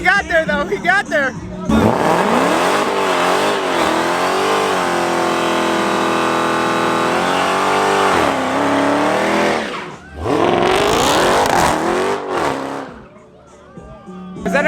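A car doing burnouts through a mid-muffler exhaust revs hard and steadily for several seconds, drops briefly, then surges again, with tire squeal and skidding mixed in and voices talking over the noise.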